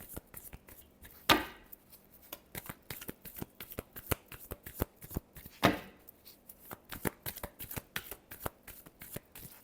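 Tarot cards are riffled and shuffled by hand in close, crisp bursts, with two stronger riffles standing out among a steady run of sharp card snaps, no talking.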